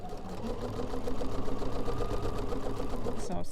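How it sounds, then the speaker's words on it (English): A sewing machine stitches jelly roll fabric strips onto a hexagon for a flip-and-stitch tote bag, a fast steady mechanical whir running close and continuous before stopping at the end. "I'm going to stitch that down right sides together with a hexagon. So let's just stitch that down."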